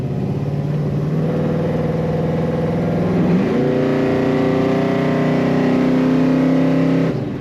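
A 1969 Chevrolet Chevelle Malibu two-door hardtop accelerates hard, its loud engine note climbing steadily through a gear change with a brief dip before rising again, heard close from inside the car without talk.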